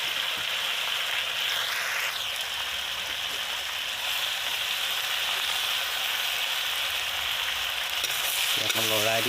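Taro greens fry in a salted pan and get stirred, giving a steady, close, loud sizzle that runs throughout, with a brief clatter of stirring right at the end.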